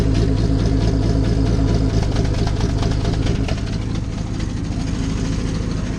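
A 1965 Ford F100's inline-six engine idles steadily and loudly up close, a deep, even rumble with a rough, rattling edge from a blown-open muffler that continues without pause.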